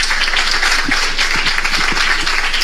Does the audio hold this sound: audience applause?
yes